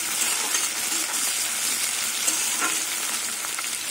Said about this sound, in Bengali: পেঁয়াজগুলো লাল করে ভাজা হয়ে গেছে